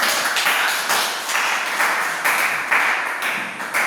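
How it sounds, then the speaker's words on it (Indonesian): Classroom audience applause after a group presentation, brisk rapid clapping from a roomful of people that comes in pulsing waves and holds at a steady, fairly loud level throughout. "Tepuk tangan dulu."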